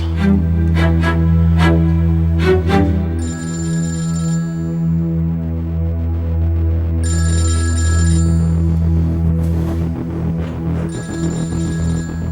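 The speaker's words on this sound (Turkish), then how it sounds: "Oğlum aç telefonu." Telephone ringing loudly in repeated electronic bursts with pauses between them, close and steady, over a low sustained background drone with no speech.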